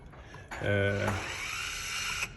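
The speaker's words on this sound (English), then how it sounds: "Move the nozzle or the turret with switch 3 or switch 2 to the desired central position." The electric motor of a Unifire F50-ST single-axis monitor turret moves the nozzle for about two seconds, a close mechanical whir with a brief tonal buzz at the start and steady gear noise afterward.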